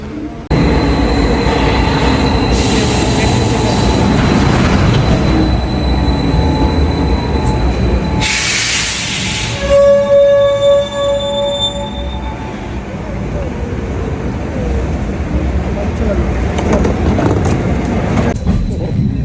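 An Athens metro train rumbles close by at a station with a steady electric motor whine, a brief burst of hissing air, and faint voices of waiting people in the background.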